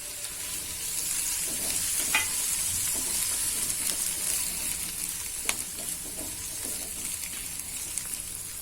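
A tomato tipped into a hot pan of wheat chaat mixture, the gas flame just switched off, gives a steady soft sizzle with scraping stir strokes and a few sharp clicks of the spoon against the pan.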